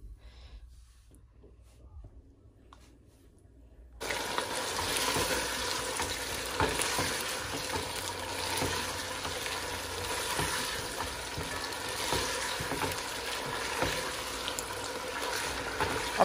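About a kilogram of chicken pieces fry in a karahi with no spices or salt yet, a steady dense sizzle bursting in abruptly after a quiet start and continuing loud and close throughout.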